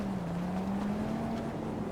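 A motorbike in the video game GTA V idles and revs with a steady low engine drone, rising slightly in pitch, heard alone and fairly close for two seconds.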